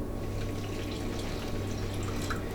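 Water pours steadily into a bowl of jerky marinade for hog meat, about one and a half cups, a close, continuous splashing trickle with no talking.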